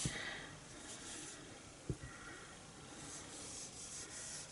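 An ink pad is rubbed lightly over embossed paper, making a faint, soft scuffing friction that comes in gentle strokes with a small bump near the middle. It is close and quiet, with no talking.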